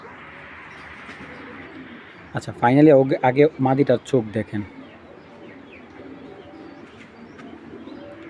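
Pigeons bred for racing and show coo softly in the background, steady and low, while someone talks up close through the middle of the stretch.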